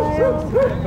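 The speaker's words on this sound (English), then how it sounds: "Keep your dog away from us." A dog gives two short, close barks in quick succession, sharp yips heard amid a tense outdoor exchange of voices.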